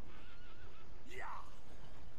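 A horse in the video game Red Dead Online gives one loud, rising whinny that breaks into a shaky descending neigh, standing out over a low background hum.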